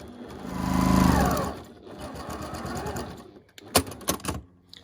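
A sewing machine stitches fabric for a pumpkin-shaped 2-in-1 storage pod with Vlieseline interfacing. Its motor whirs and rises in a continuous run, then drops to a rough, lower rattle. A few sharp clicks and knocks follow at the end.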